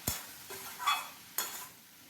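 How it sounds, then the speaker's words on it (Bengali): A utensil stirs cauliflower stem curry in a pan, with a few quick scraping strokes and clinks over a soft sizzle, close and fairly quiet. "এখন সমস্ত কিছু একবার বেশ ভালো করে নাড়াচাড়া করে মিশিয়ে দেবো"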